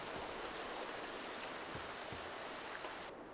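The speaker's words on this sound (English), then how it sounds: "Still raining." Continuous rain pattering and hissing evenly in the sailing video game Sailwind, with a few soft low thumps underneath, cutting off abruptly at the end.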